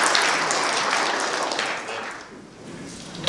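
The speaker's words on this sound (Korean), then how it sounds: "환영의 박수 한번 보내 주시겠습니다." A crowd at a memorial ceremony for independence activist Kim Dong-sam gives sustained welcoming applause that thins and fades toward the end, then swells briefly again.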